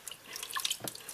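Cleaned chitterlings rinsed in water, brief light splashes and drips close by, quiet and with no talking.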